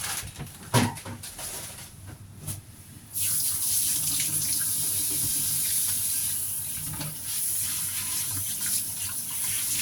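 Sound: tap water washing hands and wooden utensils

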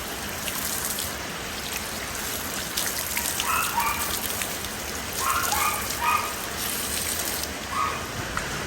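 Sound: rain falling outside

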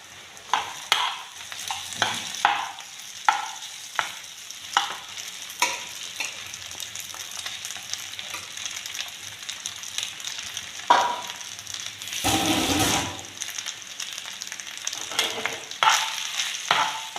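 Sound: stirring rice with vegetables in a frying pan

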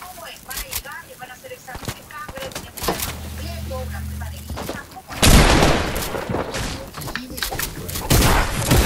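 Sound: pistol gunshots in a video game

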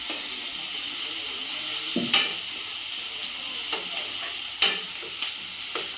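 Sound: onions frying in oil in a pan

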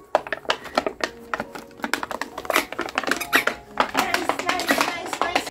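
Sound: squeaky dog toy squeaking

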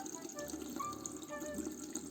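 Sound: rinsing hands under running tap water

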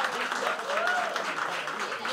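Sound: round of applause welcoming an arriving guest

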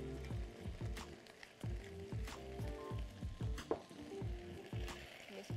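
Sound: squash sizzling while cooking in a pan

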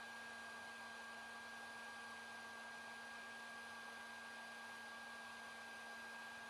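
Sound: heat gun blowing hot air for plastic welding

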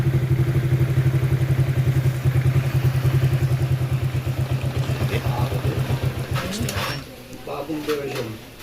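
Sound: motorcycle engine idling with fuel tank bypassed

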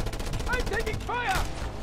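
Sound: gunfire in the Just Cause 2 video game

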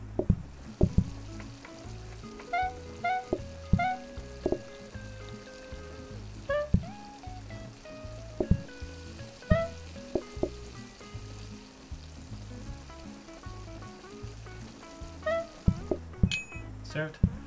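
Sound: stir fry sizzling in PlateUp! video game

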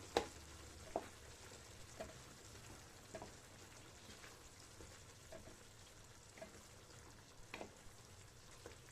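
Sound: beef sauté frying in a pan while being stirred

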